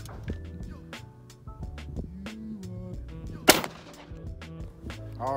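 Revolution Armory WP-12 shotgun firing slugs at a target down range, giving several sharp, loud reports spaced through the clip with one especially hard blast near the middle; people talk throughout between and over the shots.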